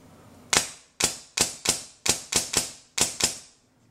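Custom Polarstar air-powered gun firing full auto in nine sharp, loud close cracks, spaced unevenly about every third to half second, each decaying quickly with no talk.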